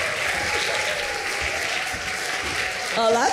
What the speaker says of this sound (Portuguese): Um grande aplauso para o maestro Pedro Neves!